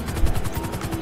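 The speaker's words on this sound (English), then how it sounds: "We could just drop in with the helicopter" A helicopter in the GTA Online video game, its rotor thumping in a fast, steady rhythm up close and loud, with a brief heavier thud near the start.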